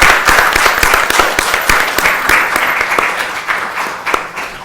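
Applause from the audience at an academic colloquium, loud and close, with distinct individual claps standing out from a dense, sustained wash that tapers slightly toward the end.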